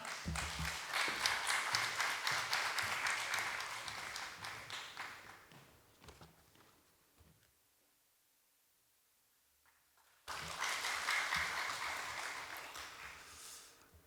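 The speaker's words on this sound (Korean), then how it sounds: "우리 선교사님 나오실 때 박수로 환영하도록 하겠습니다" A church congregation at a Wednesday lunch worship service applauds to welcome missionary Park Young-cheol of Okinawa, dense clapping that fades out to near silence, then a second burst starts abruptly and slowly tails off.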